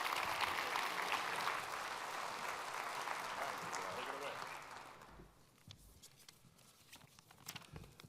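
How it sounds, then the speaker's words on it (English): A conference audience applauds the hosts at a campus energy plenary in Boston, a broad, loud wash of clapping that holds steady for about five seconds, then drops away to scattered, fainter claps and room noise. "So let's give them a nice round of applause, our hosts for this conference."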